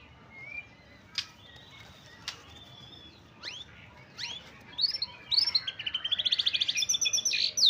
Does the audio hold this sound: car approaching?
no